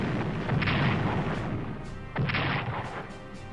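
Naval gunfire from a warship in the Strategic Command 1939 Storm over Europe video game, two heavy booming shots with a pause between them, each trailing off into a low rumble.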